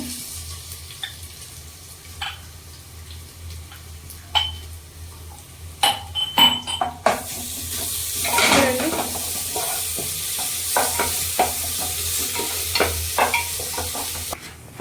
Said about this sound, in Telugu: కొంచెం గోల్డ్కి వచ్చిన తర్వాత అల్లం వెల్లుల్లి పేస్ట్ వేసుకోండి.